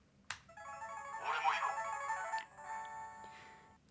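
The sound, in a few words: Ryu Hadouken toy gloves playing mode B jingle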